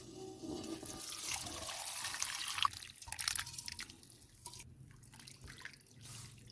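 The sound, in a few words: cooked mutton being strained, gravy liquid draining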